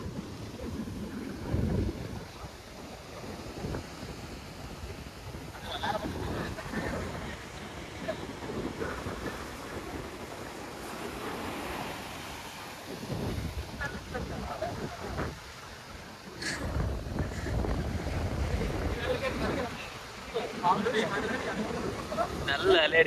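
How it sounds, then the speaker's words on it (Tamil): Strong sea waves slap and wash against a small boat at sea, a continuous rushing of water under steady wind buffeting, with heavier surges at intervals and voices talking faintly. "நல்ல அலை அடிக்குது. தண்ணி நல்லா மேலே வருது."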